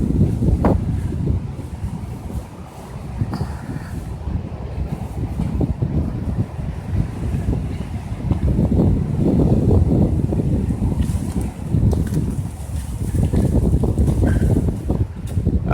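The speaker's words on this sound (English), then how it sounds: "it's quite windy tonight, unprotected up here" Strong wind buffets the open, unprotected Lake Superior coast at evening, a loud continuous roar with heavy gusting rumble across the microphone and no voices.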